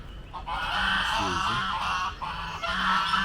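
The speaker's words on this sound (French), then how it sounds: "Là, ce sont des oies" Geese honk repeatedly at a moderate distance over steady outdoor noise at a zoo in Abidjan, their calls overlapping in a noisy chorus.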